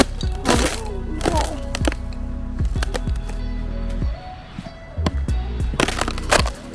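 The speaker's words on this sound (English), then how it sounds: "this ice scared me when I stepped on it and like it started making noises" Ice on a frozen lake cracking underfoot: a string of sharp, close snaps and thuds with ringing, twanging tones sliding downward between them, loud against a quiet outdoor background.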